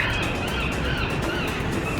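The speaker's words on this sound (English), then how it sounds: "There's a lot of seagulls too." Seagulls call in Vancouver, their cries blending into a dense, constant wash of outdoor noise close at hand.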